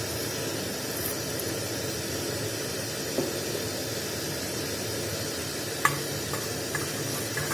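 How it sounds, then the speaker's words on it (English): Fenugreek (methi) seeds sizzle in heated refined oil for a South Indian fish curry, a faint, even hiss running throughout with a couple of small ticks and clinks, no voices. "Now the oil is heated. I'm going to add methi seeds."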